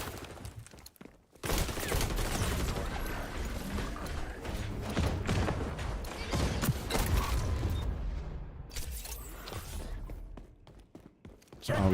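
Bursts of rapid gunfire crackle in the online shooter XDefiant, loud and nearly continuous after a brief quiet opening, with clattering mechanical shots layered into a dense barrage that only thins slightly near the end.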